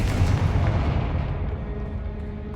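A Confringo spell explosion in the Hogwarts Legacy video game: one loud, close, deep boom with a rumbling tail that fades steadily over a couple of seconds, with no voices.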